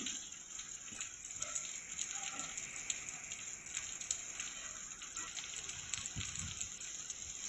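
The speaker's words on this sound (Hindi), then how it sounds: "जिले भर में तेज हवाओं के साथ ये रिमझिम बारिश हो रही है" Light drizzle during Cyclone Biparjoy in Sirohi, pattering steadily under strong winds, a soft continuous wash of raindrops with scattered faint ticks throughout.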